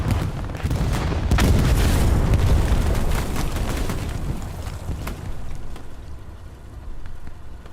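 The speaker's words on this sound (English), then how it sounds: "I will put the satchel on the tank" A satchel charge detonates against a tank during a 36-versus-36 online shooter match on the Omaha map, a heavy booming blast that rolls into a long, dense rumble and slowly tapers off, with no voices over it.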